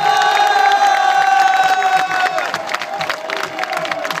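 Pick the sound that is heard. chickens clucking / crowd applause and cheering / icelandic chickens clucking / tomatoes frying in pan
crowd applause and cheering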